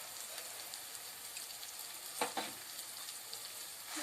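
Tomato and onion paste with chilli powder and salt frying in oil, a soft, even bubbling sizzle with a couple of small pops around the middle, quiet and with no voices.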